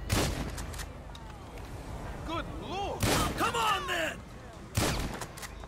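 Gunfire in the video game GTA V: sharp loud bursts at the start, near three seconds and near five seconds, with someone talking excitedly between and over the shots.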